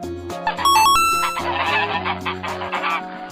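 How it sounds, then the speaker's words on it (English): A goose gives a few loud honks over a light musical backing with chiming tones, the calls clustered early and then fading into the melody. "Goose."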